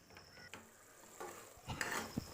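Curd is stirred into a mushroom masala for biryani: faint, scattered scrapes and soft wet stirring sounds, with a few louder clinks toward the end and no talking.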